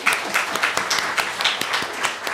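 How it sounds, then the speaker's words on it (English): A congregation at a family service bursts into brief, dense applause, many hands clapping together in a quick, moderately loud patter that lasts only a moment. "We got 2 rounds of applause."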